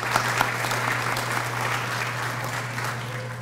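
Steady audience applause at a public community forum, filling the room evenly for a few seconds with dense clapping and a constant low hum underneath.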